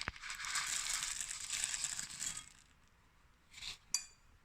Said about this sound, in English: I'm going to throw in the Bombay mix.